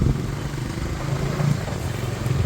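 Bajaj Dominar 250 motorcycle riding through heavy rain, with a steady low engine rumble and broadband road and rain noise held at an even level throughout.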